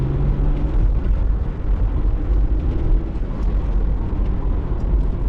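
A manual Jaguar XJS convertible with a V12 engine pulls hard under acceleration, a loud, continuous low engine roar mixed with wind rush that holds steady for several seconds, with no talk over it.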